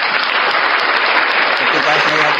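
Dense, steady applause from an audience, a continuous wash of many hands clapping at even loudness throughout, with a faint voice surfacing near the end.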